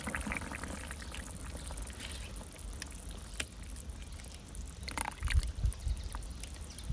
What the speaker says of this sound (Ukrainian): Разом з зелені я ще додаю трохи томатного соку.